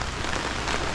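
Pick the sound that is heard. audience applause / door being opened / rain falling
rain falling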